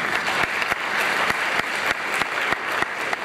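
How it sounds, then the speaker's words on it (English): Audience applause fills the room, a steady dense wash of clapping with sharp individual claps standing out, loud and continuous with no talk over it. "You can clap yourselves again there, it's you."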